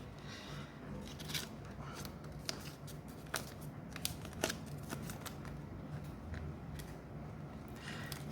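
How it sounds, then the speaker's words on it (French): A banknote handled inside a cash binder, soft paper rustles and crisp crinkling with a few light plastic clicks, very quiet and close, with no voices. "je vais juste enlever déjà le billet que j'avais là-dedans"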